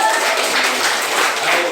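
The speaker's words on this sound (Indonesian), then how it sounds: "Tepuk tangan, yuk." Steady dense clapping fills a classroom during a teaching-practice lesson at Universitas Negeri Malang, as pupils applaud together; the patter is loud and continuous, with no pauses, across the short stretch.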